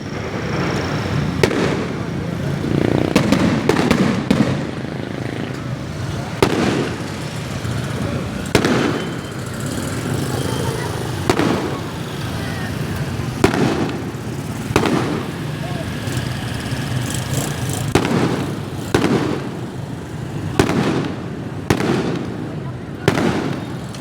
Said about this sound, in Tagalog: New Year fireworks sa YouTube.